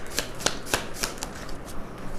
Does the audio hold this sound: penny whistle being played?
no